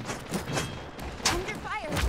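Bursts of gunfire from the online battle royale game Realm Royale, a handful of sharp cracks and thuds spread across a busy, dense game mix with chirpy effects and faint background voices.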